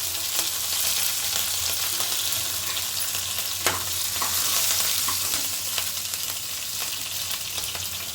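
Cumin leaves, curry leaves and green chilies frying in oil in a pan, with onions: a constant hiss of sizzling with occasional sharp pops and faint scraping, fairly quiet and steady, no talk.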